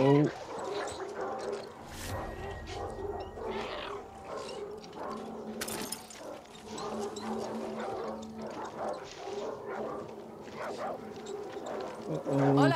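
A small dog in the Far Cry 6 video game barks and yips in short bursts over game sounds and talking voices, fairly close and moderately loud.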